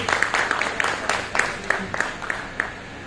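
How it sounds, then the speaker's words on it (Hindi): A small audience at a book launch and poetry gathering gives scattered applause, a thin, uneven patter of individual claps. "रितु धवन जी को और जोरदार तालियां"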